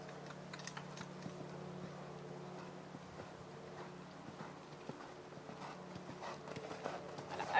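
Horse trotting in a riding session, a light, steady two-beat clip-clop of hooves repeating evenly, moderately distant and soft over a low background hum.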